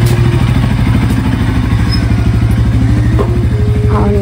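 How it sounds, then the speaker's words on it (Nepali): A motorcycle being taken out outdoors, its engine idling loud and close with a steady chugging throb and a few clattery knocks, no clear speech over it. "हजुरले बाइक निकाल्नु ल।"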